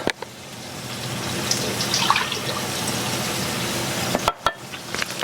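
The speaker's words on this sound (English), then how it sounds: "we're going to take 2 large eggs. To that, we're going to add 2 cups of whole milk" Whole milk poured into a mixing bowl over two large eggs makes a steady, close liquid splashing and trickling that runs for several seconds before a few sharp knocks near the end.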